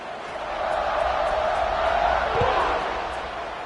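Football stadium crowd in the college football game NCAA 26, a broad swelling roar of many voices rising and fading after a score, heard close and full.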